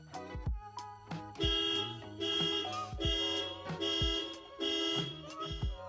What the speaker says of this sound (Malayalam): നമ്മൾ ടേൺ ചെയ്ത് കഴിഞ്ഞാൽ അലാറം അടിക്കാൻ ചാൻസ് ഉണ്ട്